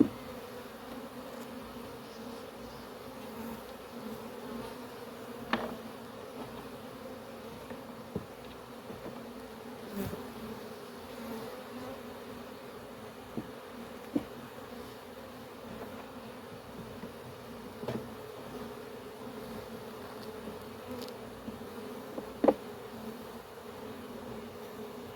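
A honey bee swarm being moved into a new hive, heard as a steady low drone of many buzzing bees, fairly faint, with a few soft clicks and knocks from handling the comb.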